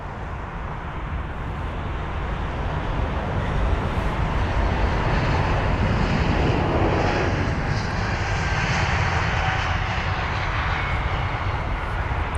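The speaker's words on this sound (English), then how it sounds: "Flight number LX319, and it is a 2-year-old jet, this one." Swiss jet airliner, a two-year-old aircraft on flight LX319 to Zurich, departing London Heathrow: a steady, loud engine roar that swells and holds through the take-off run, with no voices over it.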